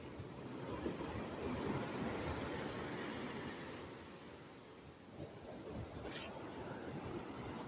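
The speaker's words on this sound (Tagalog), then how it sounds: "Ang laki ng alon." Ocean waves surge and wash steadily, a loud continuous roar of surf with wind buffeting the microphone.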